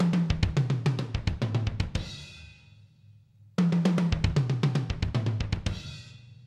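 Progressive drum pattern played on an acoustic drum kit, fast grouped hits of four and two with cymbal wash, a brief gap, then the phrase repeats, close and clear with no voices.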